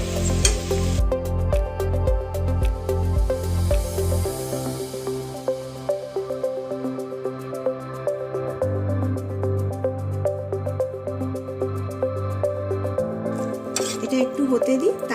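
Chilli fish cooking in a pan sizzles and bubbles as a little water is added to make a gravy, with stirring and utensil clinks; someone talks over the steady, close frying.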